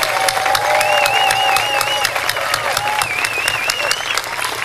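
A crowd at a Tea Party gathering for a Declaration of Independence reading bursts into sustained, dense applause, steady and loud for the whole stretch, with a few whistles threading through the clapping.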